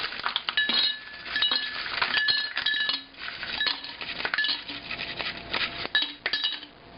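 Ice cubes clink and rattle as roughly 300 grams are dropped into a glass decanter for iced coffee, a steady series of bright, close clatters with short pauses between pours.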